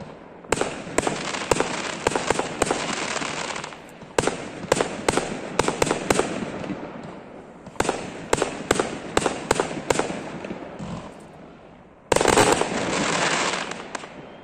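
Canada Day fireworks display in Orleans, Ontario: repeated sharp bangs and crackling bursts come in several clusters separated by short lulls, loud and echoing outdoors, with no one speaking.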